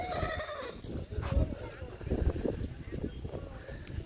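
A horse neighs at a horse race in Bhachau, Gujarat, with a whinny near the start, then shuffling and hoof movement. Crowd noise and talk continue underneath.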